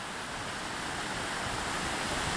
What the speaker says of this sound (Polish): Morze szumi, mamy wiatr.